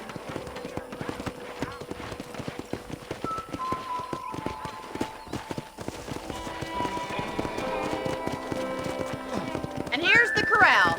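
Horses clip-clop around a ranch corral in the Red Dead Redemption video game, a steady run of close hoofbeats with a brief whinny near the end, while voices talk over them.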